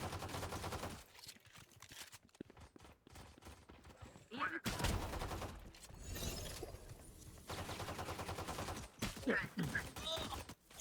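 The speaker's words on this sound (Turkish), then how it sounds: "Sıkıyorum adama. Sen de sıkıyorsun. Ben de sıkıyorum." Rapid bursts of gunfire in the video game Valorant during a deathmatch, several volleys at close range and fairly loud, interleaved with people talking over the game action.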